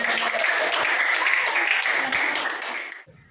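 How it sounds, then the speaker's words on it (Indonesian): Classroom students clapping together at the end of a lesson, a dense, lively burst of applause that fades out in the final moment. "tepuk tangan buat kita semuanya"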